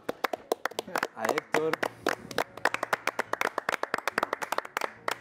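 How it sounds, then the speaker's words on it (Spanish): A studio audience claps for a departing actor at the close of a theatre season, brisk uneven clapping from several hands with a short spoken line over it. "Yo quiero hacer un aplauso porque así se despide un gran actor."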